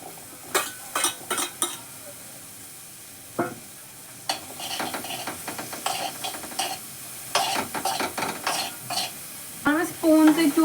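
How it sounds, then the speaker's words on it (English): Onions and capsicum sizzle in a pan for white sauce pasta while a spoon clatters and scrapes against the metal in irregular bursts, with a cough partway through. "Now let's add some veggies into it. For your information, I'm adding onions and capsicum only."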